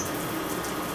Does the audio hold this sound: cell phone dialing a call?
no